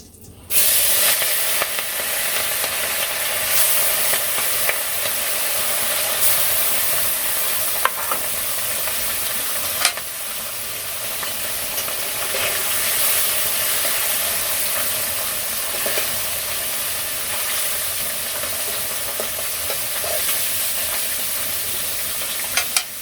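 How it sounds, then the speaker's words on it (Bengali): Small puti fish coated in salt and turmeric fry in a pan on a village stove, a loud continuous close sizzle and hiss lasting the whole stretch with occasional faint pops and no talk. "তো এই মাছগুলো ভেজে নেই এখন।"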